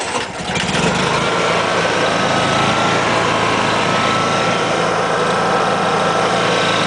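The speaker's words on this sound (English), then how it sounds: "Go ahead and start the generator." A Honda EU3000iS inverter generator starts up and settles into a loud, steady, close running drone with a constant engine buzz and no one speaking.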